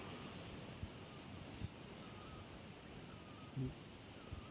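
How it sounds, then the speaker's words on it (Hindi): Steady broadband rush of a flowing stream in a wild meadow, continuous and fairly near, with wind over the microphone and a few soft thumps, no talking. "सुनेंगे अगर, एक तो जलधारा की आवाज़ है पानी का"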